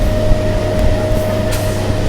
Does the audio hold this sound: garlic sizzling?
no